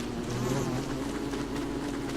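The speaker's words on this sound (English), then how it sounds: "Hello, bees." Bees buzz steadily and close by in the survival video game Don't Starve (Reign of Giants), a continuous droning hum with no talking.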